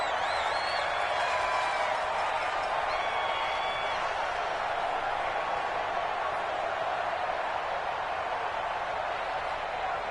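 Steady stadium crowd roar from a football video game, a Cowboys game played on PS4, filling the background evenly and without peaks through the whole stretch, with no clear cheering bursts.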